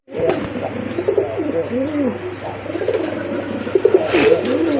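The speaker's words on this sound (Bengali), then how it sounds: "এক জোড়া লাল খাকি কবুতর দেখার মতো" Red khaki fancy pigeons coo in low, repeated rolling calls against a steady background hum, close by and continuous.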